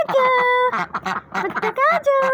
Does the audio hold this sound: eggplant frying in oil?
no